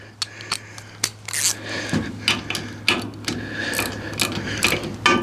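A 19 mm wrench cranks a pin into an EA Xtream gearbox hood on a brush cutter, giving irregular sharp metallic clicks and ratcheting knocks close by, with no talk.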